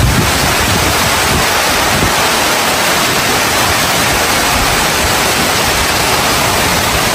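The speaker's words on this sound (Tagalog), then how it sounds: "Ayan, lakas ng hangin." Strong typhoon wind roars loudly and continuously against the microphone, a dense rushing noise that never lets up. No one speaks.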